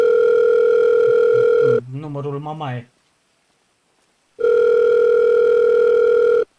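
Phone ringing tone during a call in the video game FiveM: two long, loud, steady electronic tone bursts separated by a gap in which a voice speaks briefly, followed by silence.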